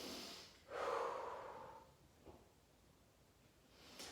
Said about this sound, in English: Just inhale and exhale,